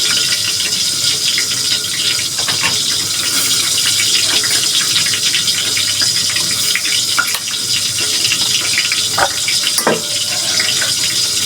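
Oil heating for sautéing, with a steady bright sizzling hiss throughout and a few faint clinks and taps.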